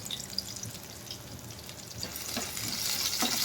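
Onions and tempering spices fry in hot oil while Thotakura (amaranth greens) is being cooked. A steady sizzle carries a faint clatter of stirring and grows slightly louder toward the end. No voices are heard.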